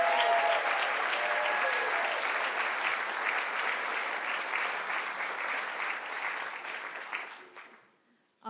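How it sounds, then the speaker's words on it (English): An audience at a storytelling event gives sustained, dense applause that stays loud for several seconds and then fades away, with no talk over it. "Can we get another round of applause for Ray?"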